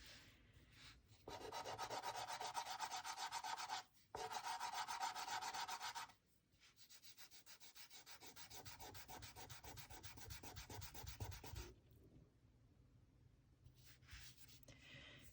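Chalky pastel scrapes across Strathmore drawing paper in long, close strokes, a dry, gritty rubbing that runs in bursts with brief pauses between passes, fairly faint overall.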